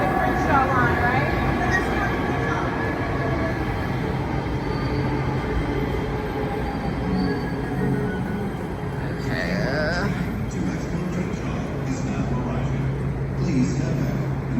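An LA Metro Green Line train pulling into a station, a continuous rumble of wheels on rail with rising squeals and screeches, while voices talk over it nearby.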